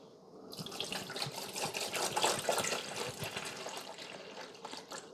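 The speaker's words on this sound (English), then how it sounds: "We're going to pour it right into the water reservoir up to the 6 cup mark." Vinegar pours steadily into the water reservoir of a Black+Decker 12-cup Mill & Brew coffee maker, a close continuous splashing trickle lasting several seconds with no talk.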